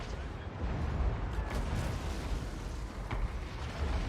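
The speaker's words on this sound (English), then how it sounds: "my Warp Lightning Cannons are firing at units they can see" Warp Lightning Cannons firing in a Total War: Warhammer 2 battle: dense low rumbling blasts and crackling bursts pile into a continuous roaring barrage, loud and without pause.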